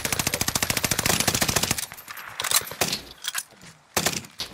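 Rapid automatic machine gun fire in a Caldera squad match, a long, dense, close burst followed by shorter scattered volleys and single shots.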